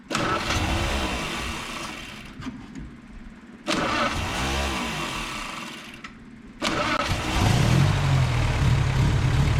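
A Ford Model A, following an engine swap, cranks and catches repeatedly, loud close engine bursts broken by brief cutouts, then settles into a steady running idle.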